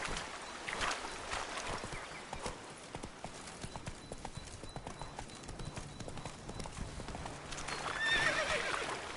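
A galloping horse in The Witcher 3: Wild Hunt pounds out a fast, steady clip-clop of hooves throughout. The hoofbeats sound close and keep up a rhythmic pace, with a brief whinny-like sound near the end.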